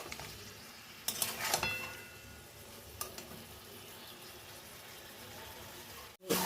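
Chicken is stirred in a pan with garam masala, a soft continuous sizzle under scattered scrapes and clinks of a utensil against the pan, close by, with a sharp knock near the end.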